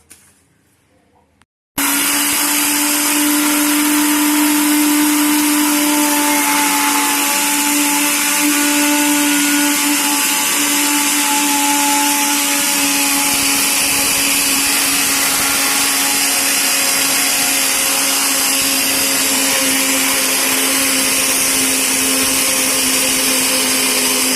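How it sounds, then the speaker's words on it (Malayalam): An electric mixer grinder runs continuously at high speed, grinding homemade sambar spice powder in its jar; a loud, steady motor whir starts abruptly after a brief quiet moment and holds to the end. "ഇത് നമുക്ക് മിക്സിയിൽ ജാറിലിട്ടിട്ട് പൊടിക്കാൻ വേണ്ട."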